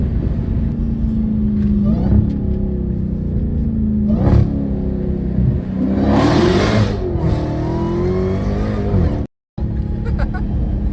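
An 800 hp Hellcat Redeye muscle car engine drones loudly and rises in pitch as it revs up hard a couple of times near a bridge, with a brief dropout near the end.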